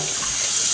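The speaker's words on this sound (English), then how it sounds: "I rinse it off with cold water to stop" Cold tap water runs steadily over cooked macaroni being rinsed in a kitchen sink. It is a loud, continuous close-up splash with no talk.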